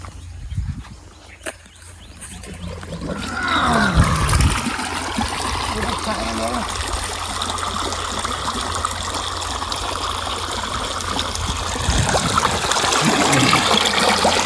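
Water gushing and splashing after a drain plug is opened, a steady loud broadband rush that builds in and holds throughout, with some brief clatter near the start and no clear talk.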